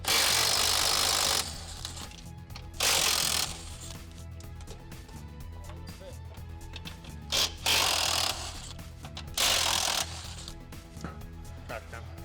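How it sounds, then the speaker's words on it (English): Six 21mm nuts being taken off the back of a truck's frame-cut front bumper, heard as several loud bursts of a power tool or ratchet separated by quieter mechanical handling, close by. "Now we're gonna take out the 6 21mm nuts on the back of this front bumper and take the whole front bumper off."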